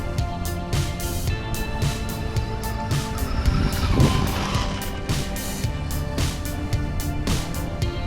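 A Losi Promoto MX RC dirt bike whines at high rev as it brakes and turns on dirt, its motor pitch rising and falling continuously and close, with a brief surge mid-way.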